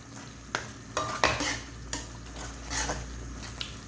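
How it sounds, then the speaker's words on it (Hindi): Mutton fries hard in a karahi over high heat, with sharp sizzling. A spoon stirs and scrapes the metal pan in repeated close clanks. "अच्छे तरीके से मैं इसका भी भुनाई कर रही हूँ।"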